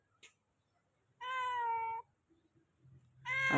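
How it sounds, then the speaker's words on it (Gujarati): A pet cat gives two clear meows close by, one long drawn-out call followed by a shorter one after a brief pause, with faint soft sounds between. "મ્યાઉ"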